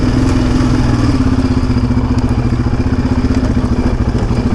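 A Yamaha Raptor 700R quad lugs at low revs on a forest trail at Brushy Mountain, its engine thumping loud and close in a steady rapid pulse with clattering mechanical noise throughout.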